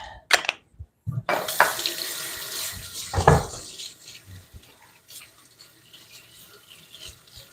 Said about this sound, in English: wash your hands a few times